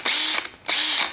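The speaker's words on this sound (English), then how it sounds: "My drill, I just put this battery in. I thought it was charged." Cordless drill on a weak, nearly flat battery, spun in two short bursts with a brief pause between, its whine close and loud with no talking.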